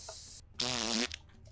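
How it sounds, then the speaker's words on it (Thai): A single buzzy, vibrating fart, close and clear, lasting about half a second, with a faint hiss just before it in an anime-style game scene. "เธอตดเหรอ"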